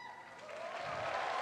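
Audience applause at the Arnold Classic bodybuilding competition, a soft, dense patter of clapping from a crowd that grows steadily over a brief moment, fairly distant and quiet.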